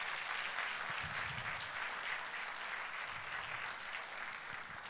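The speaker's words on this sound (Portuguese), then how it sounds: "Então dá um aplauso aí a ele." Steady applause from a church audience at a pastors' gathering fills the whole stretch, loud and continuous with no talking over it.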